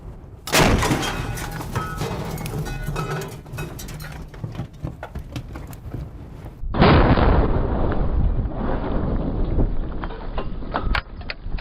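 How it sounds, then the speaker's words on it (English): A 76mm gun on an M18 Hellcat tank destroyer fires with a loud, close blast, followed by a long rumbling roar and debris, then a second heavy burst of noise that stays sustained to the end. "we're going to spend about 2 milliseconds blowing it up with this massive gun"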